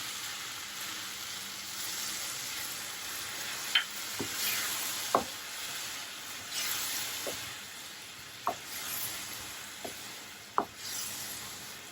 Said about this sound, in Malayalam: ഒരു മിനിറ്റ് ഒന്ന് വഴറ്റി കഴിഞ്ഞിട്ട് ഈ വിനീഗർ ഒഴിച്ചു കൊടുക്കാം.